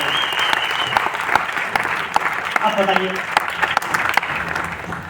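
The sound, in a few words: audience applause, light clapping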